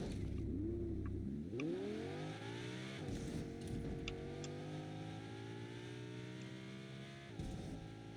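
A car engine in a video game revs up as the vehicle pulls away, pitch climbing through gear changes in a smooth rising whine, fairly close with no voices.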